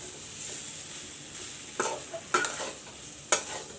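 Mashed potatoes being mixed in a pan give a soft, low sizzle, broken by three or four sharp scrapes and clinks of a spoon against the metal.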